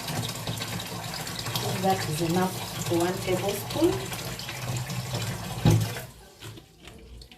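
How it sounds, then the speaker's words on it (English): Water runs from a tap into a kitchen basin with a steady splashing trickle, heard under a person talking, ending with a brief clunk and quieter drips. "put water in a basin"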